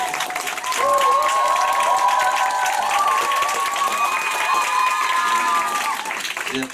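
Applause from the audience at a Nu Skin group gathering: dense, steady clapping that fills several seconds, with tonal voices or music running through it.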